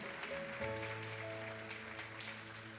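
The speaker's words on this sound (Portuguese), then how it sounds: "Você pode aplaudir o Senhor?" A church congregation applauds during a celebration service, a soft, steady patter of clapping heard faintly beneath a sustained organ or keyboard chord, continuous throughout.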